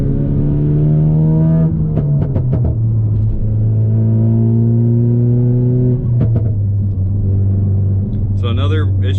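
A tuned Ford Focus RS engine revs and pulls hard through the gears, its loud droning note climbing, dropping at each shift and climbing again, close and continuous, with short chirps and whooshes between shifts.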